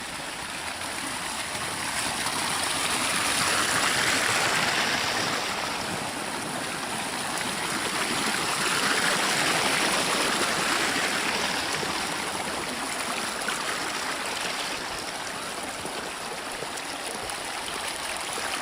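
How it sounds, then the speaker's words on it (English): Water running off a mountain after heavy rain in Ghana, a steady broad rushing flow that stays close and continuous throughout. "There's more water coming off the mountain."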